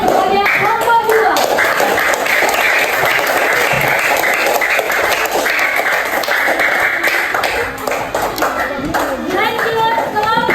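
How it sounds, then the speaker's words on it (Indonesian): A class of third graders applauds a group of classmates with sustained, dense clapping throughout, loud and close, with children's voices chattering over it. "Oke, kasih tepuk tangan kepada kelompok 2."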